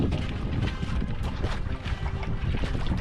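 Strong wind roars and buffets steadily over open water, a continuous, loud rush with low rumbling gusts throughout.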